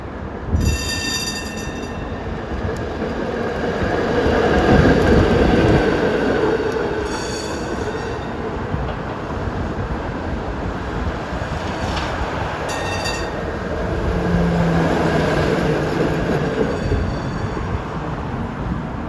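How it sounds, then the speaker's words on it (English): A historic PCC streetcar on the San Francisco Muni F Line passes with a steady rail rumble and wheel noise that swells and fades, with occasional high squeals from the rails. "Got a San Francisco Muni painted trolley going the other way shortly."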